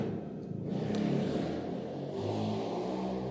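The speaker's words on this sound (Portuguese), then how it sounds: "outra moto passando aqui" A motorcycle passes by outdoors, its steady mid-pitched engine rumble swelling and holding for a few seconds at moderate distance with no talk over it.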